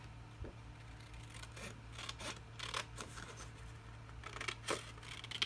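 Scissors cutting out a paper scrapbook layout piece, faint close snips and rustling paper in irregular bursts over a low steady hum, with no talking.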